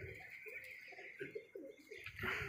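Soft, repeated pigeon coos at a pigeon loft rise and fall in a steady rhythm against a constant background hum, a little louder toward the end.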